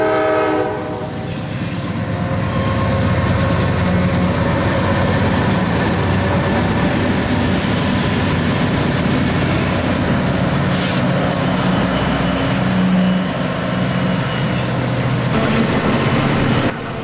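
A Conrail freight train rolls steadily through the yard in Allentown, PA, a loud, close, continuous rumble of wheels and cars with a horn sounding near the start and rhythmic clatter throughout.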